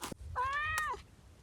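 A single cat meow up close, a clear drawn-out tonal call lasting under a second, with a brief rustle before it and quiet room noise.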